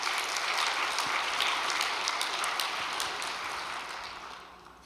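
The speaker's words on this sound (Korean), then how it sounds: "이 가정을 위해서 박수 한 번만 보내주시기 바랍니다." An audience claps for a family in a steady, moderately distant round of applause that gradually fades toward the end.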